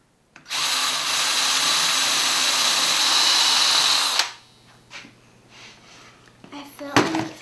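A power drill bores holes in wood for pegs during a woodworking project, running loud and steady for about four seconds before stopping, followed by faint workshop clatter and a short sharp knock near the end.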